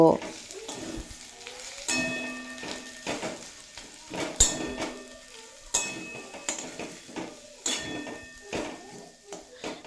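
Potatoes seasoned with salt and turmeric powder stirred in a pan, a spoon scraping and clinking in irregular strokes over a low sizzle, with a voice talking intermittently.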